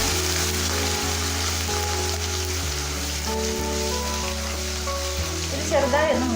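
Ginger garlic paste sizzles in hot oil in a pan for papaya pickle, a constant frying hiss with a steady low hum beneath and a brief stirring rustle near the end.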